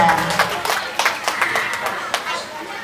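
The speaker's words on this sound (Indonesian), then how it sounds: "tepuk tangan buat anak-anak TK dan guru-guru TK Asia 188" Applause for kindergarten children and their teachers at a school performance and farewell event, with scattered clapping from a crowd rising in uneven bursts under background chatter.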